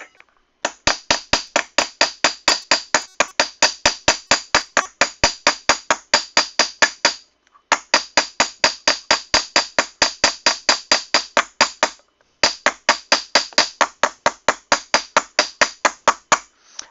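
A hammer planishing sheet metal strikes in fast, even runs of sharp ringing blows, close and loud, in three long bursts separated by brief pauses.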